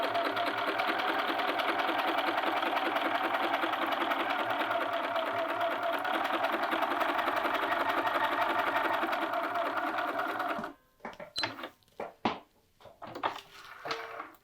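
A sewing machine runs steadily while stitching a long-sleeve seam 5/8 inch from the cut edge, a continuous close whir for about ten seconds before stopping abruptly, followed by a few short clicks and handling sounds.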